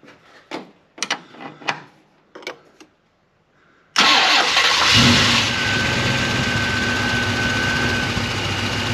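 A few clicks and clunks, then a 1973 Ford Mustang Mach 1 engine with Holley Sniper fuel injection cranks and starts up loudly, settling into a steady idle close by.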